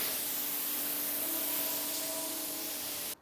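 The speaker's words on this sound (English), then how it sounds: "use your hose or your jet wash just to spray that off" A hose or jet wash spraying water to rinse a caravan, a loud steady hissing spray held throughout that cuts off sharply at the end, with no talking.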